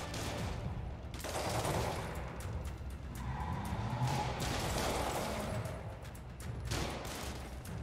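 Gunfire from police in the video game Marvel's Spider-Man Remastered, a steady crackle of shots with heavier thuds, running continuously and fairly loud through the whole stretch with no talk.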